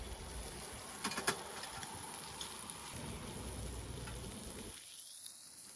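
Grouse fillet frying in oil in a pan, a soft steady sizzle with occasional small pops and crackles, fairly quiet and close, cutting off near the end.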